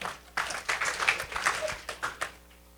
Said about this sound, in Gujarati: છતાંય સમજાવ્યું એ બદલ આપણે સ્વામીને તાળીઓથી વધારીએ